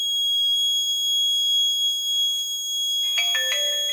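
A shrill electronic alarm tone from a GPS women's safety bangle holds steady and loud, then switches into a faster pattern of layered beeping tones near the end.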